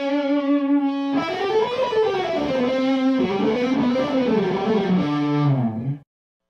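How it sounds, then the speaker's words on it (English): Distorted electric guitar through an amp with a Wampler analog echo pedal in the effects loop, a sustained gliding note with repeating echo trails, loud and clear, ending abruptly. "I've got a Wampler analog echo in the loop."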